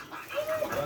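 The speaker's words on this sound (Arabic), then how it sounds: "حمصه مع الطيور" Birds in a home aviary call in a brief, close chirp with a short rising whistle over faint room background.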